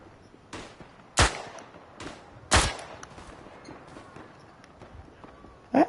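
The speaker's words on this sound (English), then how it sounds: "how are you not hitting that guy with that machine gun?" Gunfire in the WW1 video game Tannenberg, a few sharp single reports spaced a second or more apart over faint battlefield noise, rather than a sustained burst.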